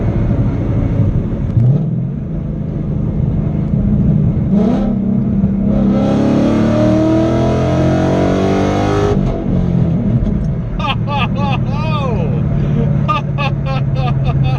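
A 2011 Ford Mustang engine roars as the driver floors it, rising sharply in pitch and loudness over several seconds, then easing off with bursty exhaust burble, heard from inside the car while a person speaks.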